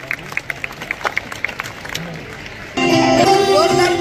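An audience claps to welcome young children performing at a school annual function: quick, fairly close claps for under three seconds, then loud music suddenly takes over.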